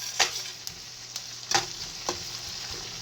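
Garlic sizzles steadily in a hot frying pan, broken by a few scraping stirs at irregular intervals.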